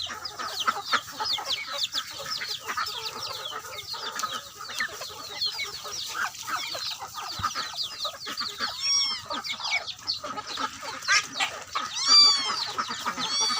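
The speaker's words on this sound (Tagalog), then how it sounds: "Assorted na to. Manok at saka ano, bibi." A busy flock of chickens and ducks clucking, cackling and quacking continuously at feeding time, with overlapping calls from several birds close by.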